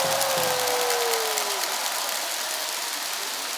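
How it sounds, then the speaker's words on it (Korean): Dense applause from a large crowd at a Lotte Giants cheering concert after a win fills the whole stretch, steady and sustained, with a brief tone sliding down early on. "힘찬 응원의 박수 한 번을 부탁드립니다"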